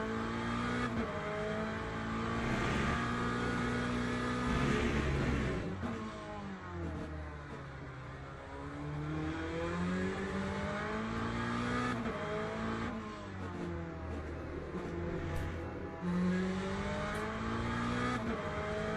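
McLaren race car in Le Mans Ultimate, its engine droning steadily with rising and falling revs through gear changes and occasional tire squeal, loud and continuous throughout.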